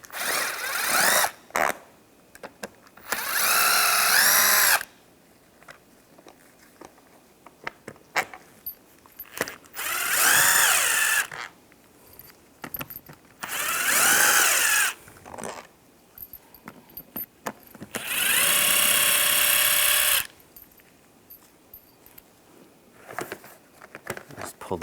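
Power driver spinning screws out of a 2000-2006 Chevrolet Tahoe seat back, four separate loud whirring bursts of a few seconds each, with quiet clicks and handling noises between them.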